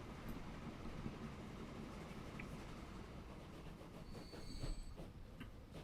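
Coal train rolling along an 1858-era line in a Northumbria railway-building game, a steady rumbling clatter of wagons with faint wheel squeal near the end.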